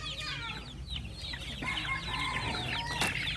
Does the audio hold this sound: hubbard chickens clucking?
yes